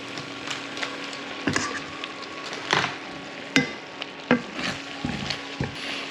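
Butter sizzles in a pan with a steady soft crackle, punctuated by occasional sharp taps and scrapes of a utensil, close by and moderately loud with no talking.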